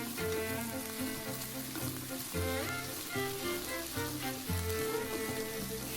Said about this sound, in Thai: ใส่ดอกกระหล่ำลงไปก่อนเลยครับ ตามด้วยฟักทองนะครับ แครอทครับ